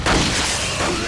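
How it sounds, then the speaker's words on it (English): A flash grenade goes off in the video game Resident Evil 4: a loud, broad burst of noise that fills the short moment, with no speech over it. "Flash grenade."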